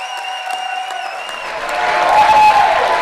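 Rally crowd breaks into applause and cheering that builds from a soft start to a loud roar after sustained tones fade out.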